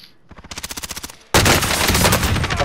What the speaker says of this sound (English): Look left and shoot.